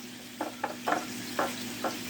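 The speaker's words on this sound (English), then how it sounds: "So now we'll just get the whisk here" A whisk clicks against a bowl while breaking down a seasoning mixture for a coating on fried chicken wings: five quick, light, close strokes at uneven spacing over a low steady background.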